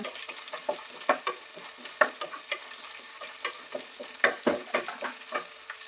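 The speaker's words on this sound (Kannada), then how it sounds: "ಇಲ್ಲಿ ಹಸಿಮೆಣ್ಸಿನ್ಕಾಯಿ ಹಾಕೊತಾ ಇದ್ದೀನಿ ಅದ್ರ ಜೊತೆಗೆ ಕರ್ಬೇವನು ಹಾಕೊಂಡಿದ್ದೀನಿ" Green chillies and curry leaves fry in a pan with a continuous crackling sizzle, punctuated by frequent sharp pops and spatters, close and steady throughout with no talking.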